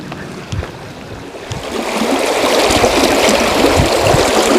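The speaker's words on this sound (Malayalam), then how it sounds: "വെള്ളത്തിൻ്റെ ഒരു ഫ്ലോ ഉണ്ടോ" Stream water flows at Dovedale, a UK national nature reserve, as a loud, steady rushing wash, with a few bumps and knocks near the start before it settles into a constant, close roar.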